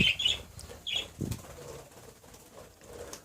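A budgerigar flaps its wings in flight indoors, giving a few quick, close fluttering bursts in the first second, followed by quieter rustling.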